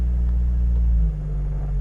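A Morgan Supersport engine idles with a deep, steady rumble close by; about a second in, as it is put into drive, the tone drops and settles into a lower, softer idle hum.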